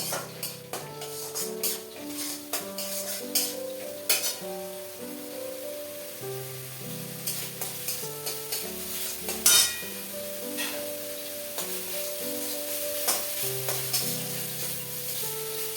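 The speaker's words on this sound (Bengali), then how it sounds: "দিয়ে আমি এটাকে একটু ভালো করে নাড়ানাড়ি করবো, কষিয়ে নেবো আর কি মাছের এই মশলাটাকে" Fish curry spice paste fries and is stirred in a pan with black pepper, making a continuous sizzle and frequent spatula scrapes and clinks. Background music plays steadily underneath.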